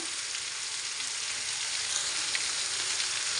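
Hog plum pickle sizzles steadily in hot oil with turmeric and chili powder, a continuous bright frying hiss with faint stirring scrapes and no talk.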